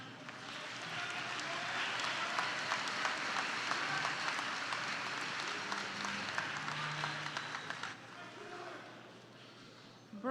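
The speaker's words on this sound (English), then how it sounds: "Let's give them another round of applause." Audience at a Glen Cove High School graduation ceremony in 2023 applauds the chorus, a dense, steady wash of clapping that holds for about eight seconds and then thins, with faint voices mixed in.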